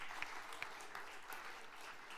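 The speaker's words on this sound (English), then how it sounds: "Yeah, you can applaud." Audience applause in a conference room during a political leaders' discussion on a progressive Europe, a steady wash of clapping at moderate distance with no talk over it.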